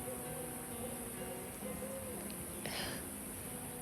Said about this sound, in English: I got me an owl hooting in the background.